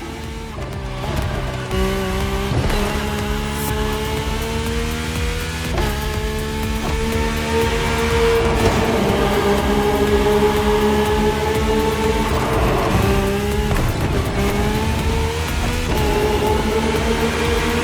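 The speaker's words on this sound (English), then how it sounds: "The rally car has already changed its course to reach the dirt." A rally car races along a dirt route in the video game The Crew Motorfest, its engine droning steadily and loudly for the whole stretch as it revs up and down through repeated gear changes.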